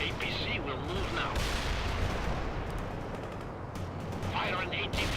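Gunfire crackles continuously through a World in Conflict tank battle during a Soviet assault, loud and dense with rumbling impacts, while voices call out over the din at the start and end.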